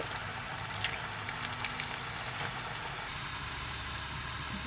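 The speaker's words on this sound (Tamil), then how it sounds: "இப்போ இது நல்லா பொரிஞ்சிருச்சு" Chunks of elephant foot yam frying in hot oil give a steady, dense sizzle with faint crackles, even and continuous throughout.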